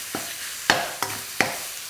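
Minced chicken and garlic searing in a hot pan for Thai basil stir fry, giving a faint steady sizzle broken by four sharp clacks of a utensil against the pan, spaced unevenly.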